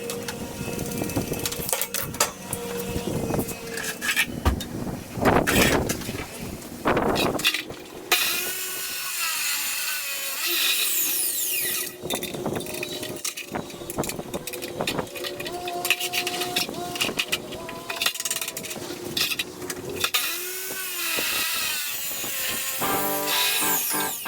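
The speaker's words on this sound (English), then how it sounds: "We're going to set the saw up on a 45-degree angle, make all my 45-degree cuts" A power saw cuts metal stock at a 45-degree angle for a welding bench, several loud, harsh cutting passes with pauses between them, and talk heard in places.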